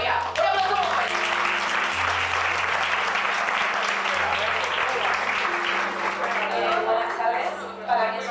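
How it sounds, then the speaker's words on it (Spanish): A large audience at a Spanish stage event applauds loudly and steadily for about eight seconds, with a low held musical tone running underneath, then the clapping thins at the end. "Un fuerte aplauso para todos vosotros"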